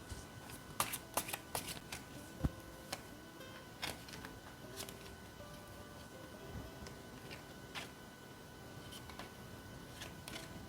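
Tarot cards are shuffled by hand for a reading, a faint, close riffle of papery flicks and soft taps in scattered bursts against a quiet room, with no voice.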